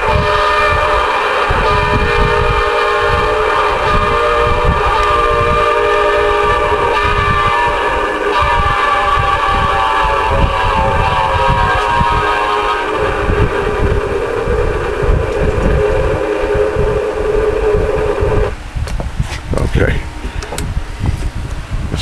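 A noise toy sound effect fitted to a Galaxy DX-94HP CB radio produces a loud, sustained, horn-like harmonic tone that holds steady for about eighteen seconds before cutting off abruptly.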